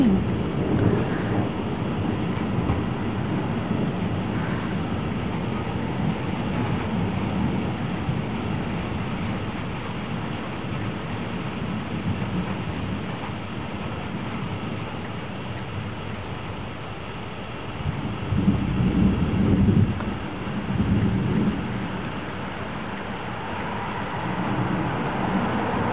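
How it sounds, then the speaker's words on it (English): Thunderstorm rain in Kissimmee, Florida begins as a steady wash of falling water under low rumbling. It swells to a heavier roar partway through, then eases and builds again. "And there starts the rain."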